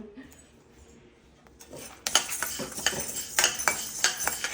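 Horse gram popping and crackling in a hot pan while chutney is prepared, a quiet stretch then from about two seconds a dense run of sharp crackles and clinks, close and fairly loud, with no talking.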